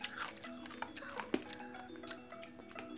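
Crunchy, hard, sour Japanese candy being chewed up close, with a run of crisp crackling bites and a sharper crunch partway through, quiet and intimate.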